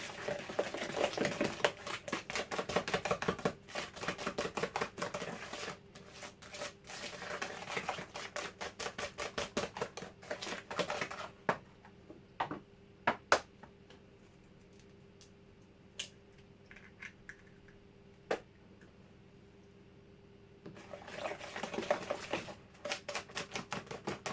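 Banana cake batter with eggs being stirred in a bowl, giving a rapid scraping and clicking patter that thins to sparse ticks in the middle before picking up again.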